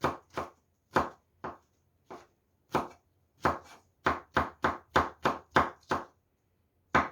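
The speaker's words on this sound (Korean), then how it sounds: "이것도 송송송 썰어 주세요" A knife slices Cheongyang chili peppers on a cutting board for bean sprout soup with rice, making about eighteen crisp, close chops. They start uneven, then settle into a quick, regular rhythm.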